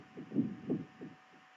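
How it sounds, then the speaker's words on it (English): Heartbeat sound effect from an anime-style stalking visual novel game: a soft, low, muffled thumping in a steady lub-dub rhythm, several beats fading slightly toward the end, with no talk. "You feel your heartbeat quicken."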